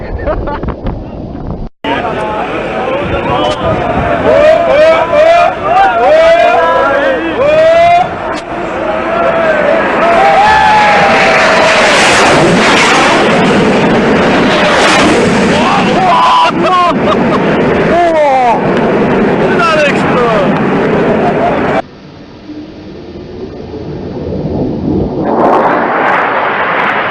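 A fighter jet makes an extremely low pass overhead, a loud sustained roar with wind buffeting that swells, holds for about twenty seconds and cuts off abruptly before rising again, with excited voices over it.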